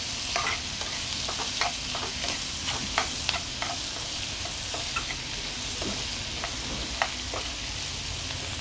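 Onions sizzle steadily in a hot pan with a pinch of salt, frying until reddish, while a spatula scrapes and stirs in irregular clicks over a constant hiss, close and alone with no talking.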